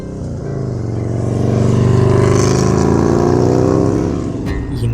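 A motorbike engine revs up in a swelling, loud drone that rises to a peak and then eases off over about five seconds, with no voices.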